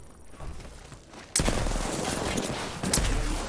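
A burst of automatic gunfire erupts in a video game shootout, then a second volley follows moments later, loud and close against quiet background game noise.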